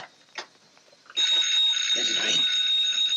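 An old-fashioned telephone bell rings at night, loud and continuous, starting abruptly after a few quiet sounds and some speech. The steady metallic ring carries to the end.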